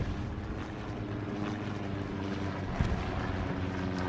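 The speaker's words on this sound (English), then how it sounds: "I hear a plane, I smell a plane, but I don't see a plane." In the World War II shooter Hell Let Loose, a plane drones overhead as a steady, broad, rumbling roar mixed with wind-like noise, continuous and moderately loud, with a faint thud near the end.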